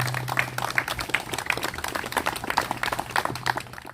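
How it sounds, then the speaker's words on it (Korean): A small crowd claps at a memorial ceremony for fallen anti-communist youth movement martyrs, a fairly close, uneven patter of hand claps for about four seconds, fading slightly at the end. "박수 한번 보내주시기 바랍니다"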